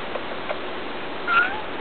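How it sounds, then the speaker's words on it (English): A cat gives a single short, close meow near the end of a quiet indoor stretch, with faint background noise before it. "I hear you purring."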